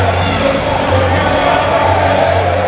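Crowd noise fills a college men's basketball championship final in the gym, a steady loud murmur and cheer with no pauses.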